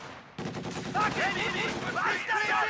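Machine gun fire crackles in the video game Company of Heroes 2, a World War II strategy battle: dense, rapid bursts of automatic fire with overlapping battle noise, loud and continuous over a few seconds, with no voices.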